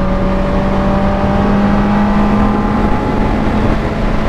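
A Benelli TNT 600 motorcycle engine drones steadily and loudly while riding through curves, a constant close hum with wind noise and a slowly shifting pitch.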